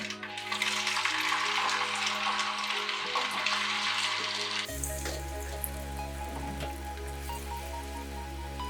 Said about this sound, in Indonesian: Kemudian goreng irisan singkong